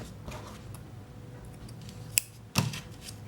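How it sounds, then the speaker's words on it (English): Scissors snip crochet yarn, one light cut followed by a sharper, louder snip near the end, close by over a quiet room background. "And then I'm going to cut my yarn."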